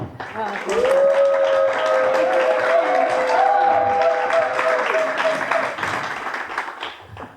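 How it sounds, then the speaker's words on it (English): Audience clapping at a Title IX community event, a moderate crowd applauding steadily across the clip while a sustained tonal sound rises and holds above it before tapering off. "Can we give a round of applause for Dr."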